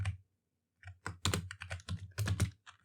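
Close computer keyboard typing during C# coding, with quick bursts of clicking keys broken by a short pause.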